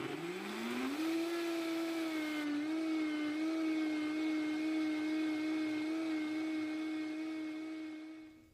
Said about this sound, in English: So now I'm going to puree this well.